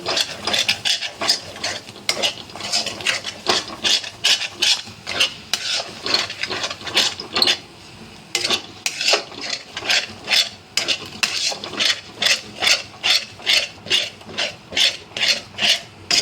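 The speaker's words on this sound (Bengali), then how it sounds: "ডিমটা ফাটিয়ে আমি এগুলোর সাথে ভালো করে মিক্স করে নেব।" A cracked raw egg is worked into a stuffing for a pointed gourd curry: steady, rhythmic scraping and stirring strokes, close and fairly loud, with a brief pause midway, then quicker regular strokes toward the end.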